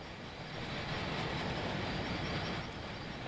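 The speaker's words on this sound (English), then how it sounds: "I think that's a QR train," A Queensland Rail 2800 class train passing outside a window, a loud, steady rumble of wheels and rail noise that holds through the whole stretch with no voices.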